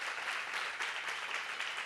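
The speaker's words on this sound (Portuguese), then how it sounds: "Peço uma salva de palmas" An audience at a book fair event in São Bernardo applauds, a soft, even patter of clapping heard from a slight distance, steady for the whole moment with no speech.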